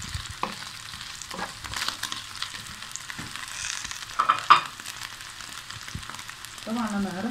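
Chicken pieces fry and sizzle in a pan as colored peppers and spices go in, with a steady close hiss, occasional stirring scrapes and a louder burst near the end.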